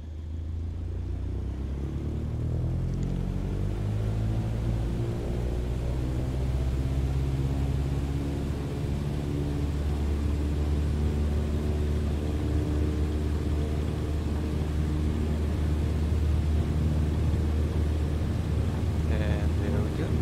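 The engine of a Cessna 152 in Microsoft Flight Simulator 2020 throttles up for takeoff, a loud continuous droning rumble with rising harmonics that holds steady for the full stretch.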